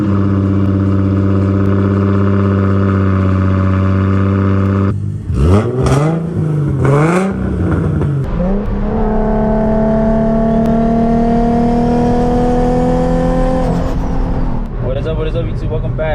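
Custom Tomei exhaust on a rear-mount turbo Nissan 350Z, steady idle that breaks into sharp revs before settling into a long, rising engine drone, loud and close, with people talking over parts of it.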